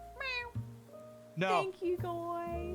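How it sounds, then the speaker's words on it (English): A cat meows in a close indoor setting, three distinct rising meows in succession, while a person speaks briefly between them. "That's a cat."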